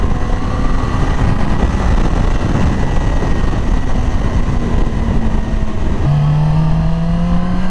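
A 2020 Yamaha R6 sport motorcycle engine roars steadily while riding, loud and continuous, with a pitch shift near the end as the rider changes speed.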